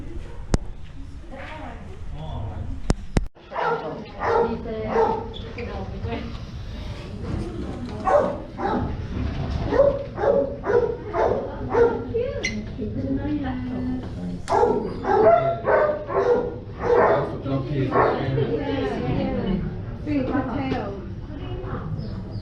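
A dog at an Australian RSPCA animal welfare shelter gives barks and yips under steady, close talk from people throughout.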